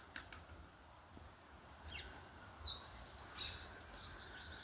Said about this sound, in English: Blackbirds over there.